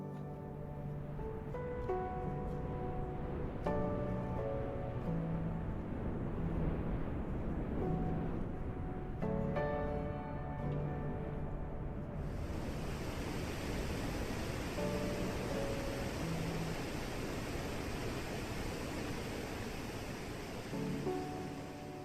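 Deep, thunderous roar of a waterfall plunging into a deep, clear limestone pool ringed by vegetation, a steady dense wash of falling water heard alone without voices.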